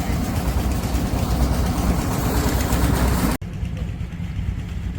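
A tractor engine idles on a farm with a steady low rumble, loud and continuous, then cuts to a quieter stretch where the engine drone carries on at lower level.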